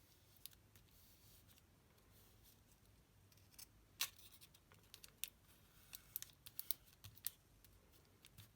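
Scissors snip paper for a junk journal page, quiet scattered sharp clicks and cuts, sparse at first and then coming in quicker bursts over faint room hush, with no talking.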